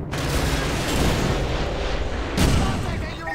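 Gunfire and explosions in the Call of Duty: Modern Warfare 2 campaign, a loud, continuous rumbling barrage of booms and shots with a stronger blast near the end.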